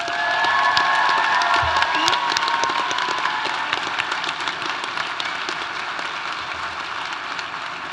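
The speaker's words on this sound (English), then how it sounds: "Can we hear another round of applause for him?" Crowd applause and cheering at a university honors graduation ceremony, loud and sustained throughout with dense clapping, shouts and whoops near the start, tapering slightly toward the end.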